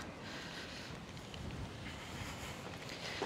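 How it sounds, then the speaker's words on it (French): Wind rushes across an outdoor microphone in a steady, broad roar with gentle swells and no pauses, loud and close. "Mais il y a du vent, hein, dans les voiles."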